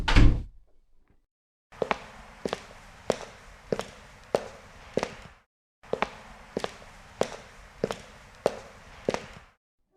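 Footsteps in a quiet interior, two runs of sharp, evenly spaced knocking steps separated by a brief pause, close and distinct against silence.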